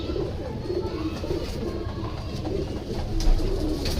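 Pigeons coo softly in a rooftop loft, low repeated cooing phrases over steady background hiss, with no voices.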